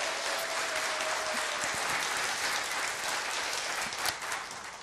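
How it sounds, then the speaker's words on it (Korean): A church congregation gives a big round of applause to encourage guests taking their seats, a steady, full wash of many hands clapping from start to finish, fairly distant and even. "여러분들이 큰 박수를 다시 한번 격려해 주시기 바랍니다"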